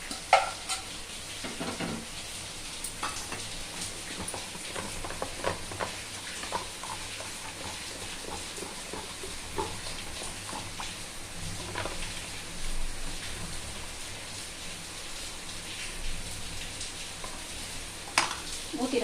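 Sweet paniyaram batter sizzles and crackles steadily in a hot pan, a dense, continuous frying hiss with faint stirring clicks, close and loud throughout with no pause.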